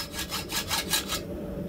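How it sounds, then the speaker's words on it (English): A hacksaw cuts through a hot steel rod in steady back-and-forth strokes, six or so rhythmic rasps close up, then the sawing stops. "so I just hot cut this with the hacksaw."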